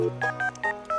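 Telephone keypad tones from the farm phone in the video game Stardew Valley: four short, clean dial beeps in an even rhythm, played alone.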